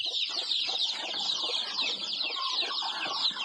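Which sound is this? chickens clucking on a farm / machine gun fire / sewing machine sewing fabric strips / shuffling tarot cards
chickens clucking on a farm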